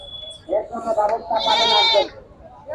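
Goats bleat at a village goat market, with one short call followed by a longer, wavering bleat, loud and close.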